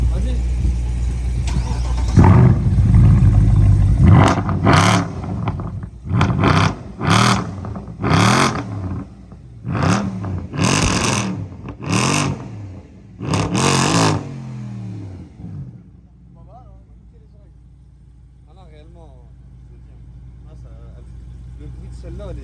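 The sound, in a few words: sports car engine revving, BMW M3 E90 or Mercedes C63 AMG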